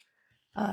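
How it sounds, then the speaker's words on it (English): A pet dog growls briefly and close by, a short rough burst at the end after near silence, no talk. "And that's my dog."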